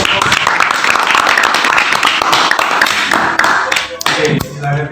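A room full of people clapping in a dense, continuous burst of applause that thins out toward the end, with voices mixed in.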